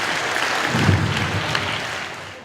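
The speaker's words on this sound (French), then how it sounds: "Je pense qu'on peut les applaudir." An audience applauds a girls' futsal team in their first year of play, a steady wash of clapping that swells slightly near the middle and tapers off toward the end.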